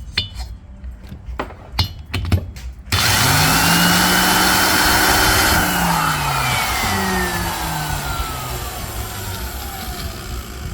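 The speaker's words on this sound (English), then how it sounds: "We're getting ready to start cutting the intake valve seat with a 45-degree angle." A valve seat cutter works a 45-degree intake valve seat on a Harley M8 cylinder head. A few sharp metallic clinks come first, then a loud, continuous motor whine rises and shifts in pitch, staying close and steady to the end.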